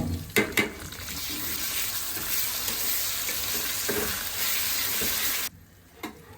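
Ginger-garlic paste and tomato fry in a pan with a loud, steady sizzle for several seconds, a few sharp clatters of stirring near the start, then the hiss cuts off abruptly and near silence follows.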